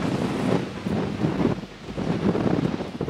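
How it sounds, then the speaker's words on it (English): Strong wind gusting around the ruined tower of Dolforwyn Castle, a 13th-century border stronghold, buffeting the microphone in loud, uneven roaring surges that rise and fall. "It's very windy."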